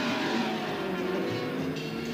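Race car engine at the Indianapolis 500, racing in Jim Clark's era, droning steadily with a rising pitch, loud and continuous throughout with no talk.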